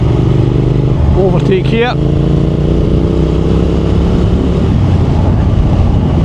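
Triumph Thruxton R 1200 motorcycle engine pulling hard in fourth gear during an overtake, a steady close drone with a rising note near the start, under a rider talking briefly over wind noise.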